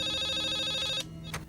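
A telephone rings with a sustained electronic tone that cuts off, followed by a short burst of another ring, fairly close.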